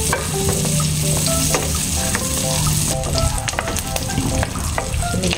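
Chopped garlic sautéing in a pan, a loud close sizzle with constant crackle and scraping stir sounds, alone with no voices.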